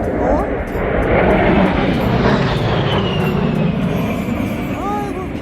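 An airplane passes overhead above an outdoor flower nursery, a loud broadband engine roar that fills the whole stretch and slowly shifts in pitch, with a voice speaking faintly beneath it.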